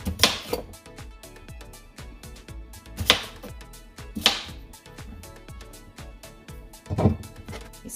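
A knife chopping green papaya on a cutting board, a rapid series of close, crisp thuds with a few louder sharp knocks mixed in.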